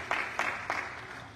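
Church congregation clapping hands in a service, a few loud claps standing out over a steady wash of many hands applauding together, fading slightly toward the end.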